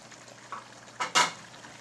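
Taro root and potato curry with green chilies frying in a pan, a quiet sizzle broken by a couple of short stirring scrapes near the end.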